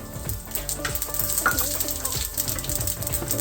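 Black urad dal dropped into hot oil for sambar, a loud dense crackling sizzle that stays continuous and close throughout, with no voices.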